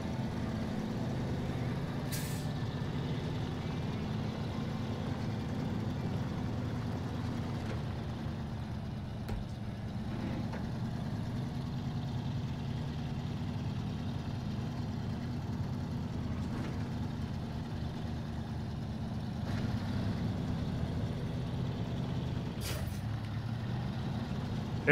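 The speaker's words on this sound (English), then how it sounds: "It is a big truck." A big truck engine drones steadily in the video game SnowRunner as it churns through mud, a constant low rumble that never drops out, with a few faint hissing bursts over the top.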